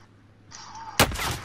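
A single sharp gunshot cracks out loud and close in Call of Duty: Modern Warfare Warzone, right after a faint rising whine, leaving a short ringing tail.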